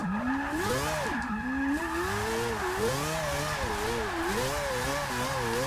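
A quad-rotor Audi R8 in Forza Motorsport 6 howls continuously at high revs, pitch rising and falling through gear changes as tyres squeal underneath, loud and close with no talking.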